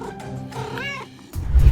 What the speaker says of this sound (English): Look at this cute kitten instead.